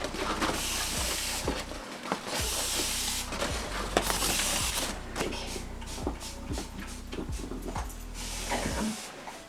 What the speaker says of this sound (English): Let me get the insecticide and we'll spray it down